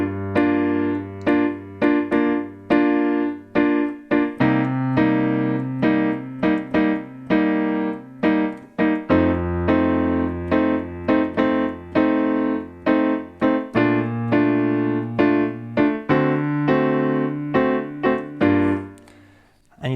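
Piano plays a song's chord progression with both hands, left-hand bass notes under rhythmic right-hand chords in steady time, close and clear with no talking, ending on a held chord.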